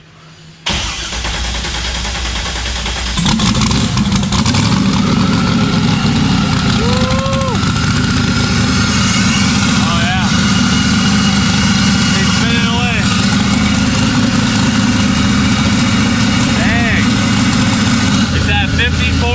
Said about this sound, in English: Might have to give her a little bit of gas, James.